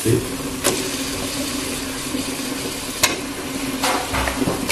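About three-quarters of a kilo of chicken goes into a pan for Ambur chicken biryani and is stirred, giving a steady frying sizzle and rumble with a few sharp scrapes of the spoon. No one speaks.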